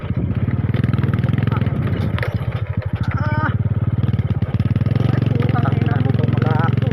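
A motorcycle struggles and strains, unable to climb a hill on a forest trail. The engine holds a loud, continuous low drone, its pitch wavering slightly, with brief voices heard over it now and then.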